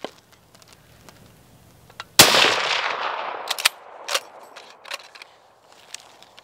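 A single close, sharp Ishapore 2A rifle shot cracks out and echoes away, followed by scattered clicks and handling noises.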